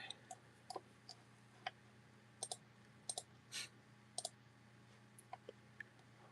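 Small plastic clicks from Lego pieces being handled, a scattered series of sharp, quiet ticks at irregular intervals over a low steady hum, with no voices.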